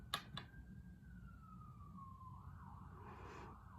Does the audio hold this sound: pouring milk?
no